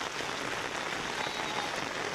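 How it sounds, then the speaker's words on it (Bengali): Rain pours steadily onto an open grassy field where sheep are grazing, a constant broadband patter that stays even and close for the whole stretch, with no talking. "কিছু সময় পরে বৃষ্টি শুরু হয়ে গেছে।"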